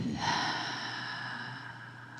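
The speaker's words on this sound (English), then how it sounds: "take a breath." A single deep breath drawn in slowly and steadily during a guided meditation, close and fairly quiet over a low sustained hum, with no talking.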